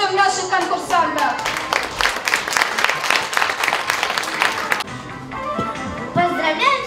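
An audience claps loudly to welcome contestants at the opening of a district Teacher of the Year professional skills competition. The dense clapping holds steady for about four seconds and then cuts off, with a voice or tonal sound running alongside and continuing after.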